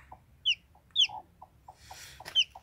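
Farmyard hen clucking with bright, high peeping from newly hatched chicks, several short chirps spaced about half a second apart, close by with a soft rustle in between.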